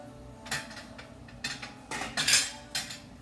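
Metal utensils scrape and clink against a plate as a piece of cooked seafood is set down, several close, uneven bursts of clatter over a low kitchen hum, with no talking.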